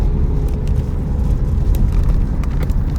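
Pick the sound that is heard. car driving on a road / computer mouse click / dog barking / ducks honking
car driving on a road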